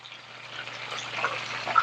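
Duck breast and potatoes fry in a pan with a soft, steady sizzle that holds level throughout, fairly quiet, with no voices over it.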